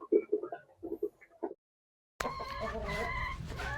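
Dekalb Brown breeder hens and a rooster at the nest, a burst of short clucks in a quick series for about a second and a half, then silence, then a denser mix of fowl calls and barnyard noise, close by.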